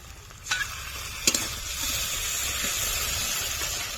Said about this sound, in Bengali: পেঁয়াজের টমেটোটা ভালো করে ভেজে নেব আদা বাটা জিরে বাটা শুকনো লঙ্কা বাটা